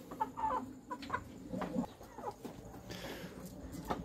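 Healthy backyard hens cluck in short, irregular bursts, several birds close by and fairly soft, with no talking.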